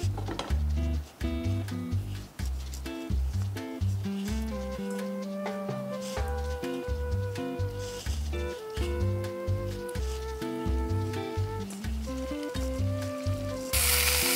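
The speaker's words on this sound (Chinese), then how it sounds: "我哋首先要將佢咧煎到佢金黃色，令到佢個面上咗色" Beef ribs sear and sizzle in hot oil in a heated pan, a steady crackling hiss that runs under loud music for the whole stretch.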